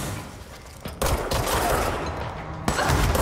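Sniper gunfire in the video game Control, with a dense, crackling volley of shots and sharp onset bursts around one and two and a half seconds, loud and sustained throughout.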